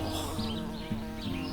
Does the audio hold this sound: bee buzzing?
yes